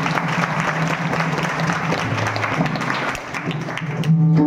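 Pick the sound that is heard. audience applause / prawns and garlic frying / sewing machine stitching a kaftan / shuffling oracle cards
audience applause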